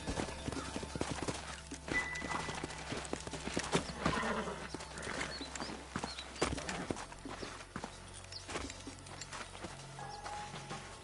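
In Red Dead Redemption, several horses clop along with clear hoofbeats that vary in pace, and neighs and snorts break in now and then against open-country ambience.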